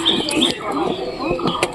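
A domestic pigeon in a home loft gives soft, low coos, close and brief, under a person talking.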